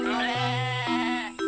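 A goat gives a long wavering bleat of about a second, loud and close, followed by a short second cry at the end.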